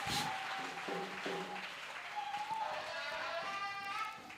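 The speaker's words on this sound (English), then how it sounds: "Let's clap for our father, Tor Tiv." An audience in Gboko claps for the Tor Tiv during a courtesy visit by Pastor W.F. Kumuyi, with steady applause under voices and a faint tonal hum running across it.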